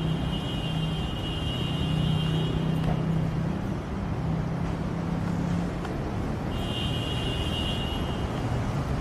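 Rush-hour car traffic fills a Kuala Lumpur city street at 5:30 PM on a weekday, a steady, continuous roar of many vehicles with passing engines and faint higher tonal hums, no one speaking.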